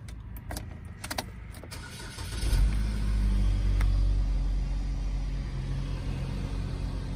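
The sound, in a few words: 2014 Chevrolet Equinox engine being started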